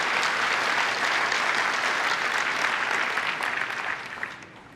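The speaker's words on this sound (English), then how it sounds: "Let's give a round of applause to Will, Willem, and Herman" Audience applauding at a Google Cloud keynote, a loud, steady wash of clapping that holds for several seconds before thinning out and fading at the end.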